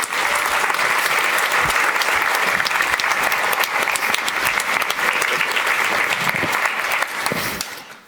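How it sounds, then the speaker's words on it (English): Warm audience applause for a speaker at a public lecture event in Amsterdam, dense sustained clapping from a sizeable crowd at close range, steady and loud before tapering off at the end. "give her a warm hand of applause"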